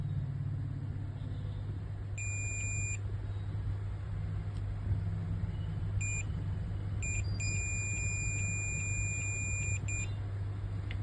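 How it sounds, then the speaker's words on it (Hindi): Repeated multimeter continuity beeps while probing a capacitor on a Dell Inspiron 5520 laptop motherboard (QCL00 LA-8241P rev 1.0), sounding as several short high tones and one long sustained tone over a steady low hum. "हम यहाँ पे जैसे कैपेसिटर पे चेक करते हैं तो बीप जनरेट होगा।"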